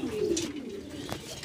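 A pair of pigeons kept for breeding cooing nearby, a short, low throaty coo rising and settling over about a second, fairly close and clear.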